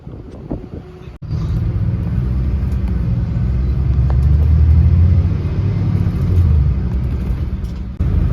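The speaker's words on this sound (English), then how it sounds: "our bus for today is a Volvo VB424" A steady low engine rumble fills the cabin of a Volvo VB424 coach on the road, droning continuously with a faint rattle, close and unbroken apart from a brief dip near the start.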